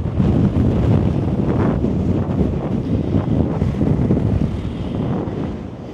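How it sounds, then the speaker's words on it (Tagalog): Strong amihan monsoon wind buffets a microphone outdoors near the Miagao rice terraces, a dense, loud, continuous roar with gusty surges and no speech. "Grabe yung hangin ngayon kasi amihan na. So malakas na yung hangin kapag amihan na."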